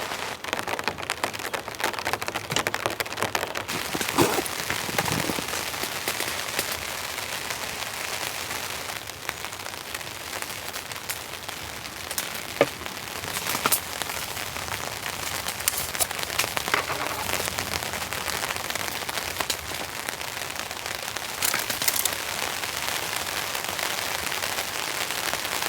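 Heavy rain drums steadily on a camping tent in a storm, a dense continuous patter with occasional sharper drop hits, close and even throughout with no talking.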